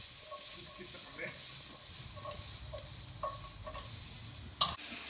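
A whole garlic clove mixed into sliced chorizo frying in a pan, a soft continuous hiss and sizzle with light scraping and a sharp clink near the end, close by.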